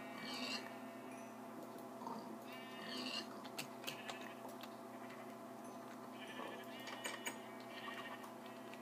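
Rainbow-coloured sheep in a video game bleat repeatedly in short, fairly close calls, several overlapping bleats spread through the scene over a steady background hum, with no talking.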